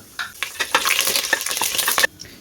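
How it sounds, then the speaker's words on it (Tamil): Something fries and sizzles in a hot pan ahead of curry leaves going in, part of cooking a beef chukka, with steady crackling and quick scrapes of stirring for about two seconds before the noise stops suddenly. "இப்போ இதை நல்லா பொரியிட்டு இந்தளவுக்கு நல்லா பொரிஞ்சிட்டு"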